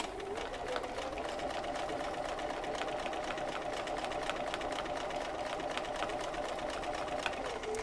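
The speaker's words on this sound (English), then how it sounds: "we're just going to start stitching nice and steadily down this first side" A sewing machine stitches fabric along a curve, running as a steady, fast, even mechanical whir with a constant rhythmic needle patter, close and unbroken throughout.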